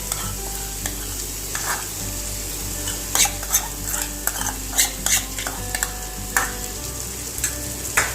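A masala paste of tender coconut and yogurt for soya korma fries in a pan over a low flame and is slowly stirred, with a soft continuous sizzle punctuated by sharp spoon scrapes and clicks against the pan.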